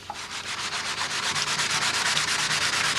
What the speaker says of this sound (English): These sanding sponges